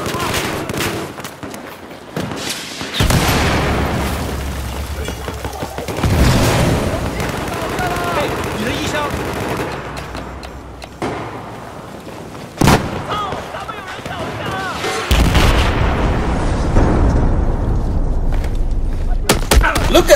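Bursts of gunfire from the Battlefield 4 video game during a team deathmatch on PS4, loud clustered shots and booms arriving in separated volleys with quieter gaps between them, a voice talking over parts of it.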